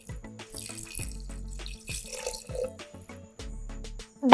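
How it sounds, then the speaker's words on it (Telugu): Water, 500 millilitres, is poured into a clay pot for a traditional pot chicken curry, giving short, uneven splashing and trickling bursts at moderate volume, with no voices. "500 మిల్లీలీటర్ల వాటర్ని పోసుకొని"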